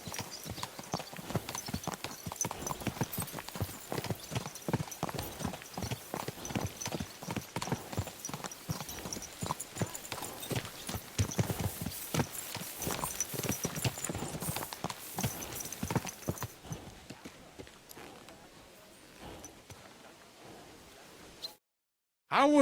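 A horse's hooves clip-clop in Kingdom Come: Deliverance II, a steady, close rhythm of rapid hoof strikes that runs for most of the stretch, then fades out to near silence before a brief loud burst at the end.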